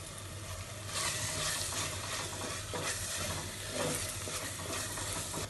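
Curry leaves frying in oil while a seabass gravy is started: a continuous close sizzle with stirring strokes and small crackling surges, no voices.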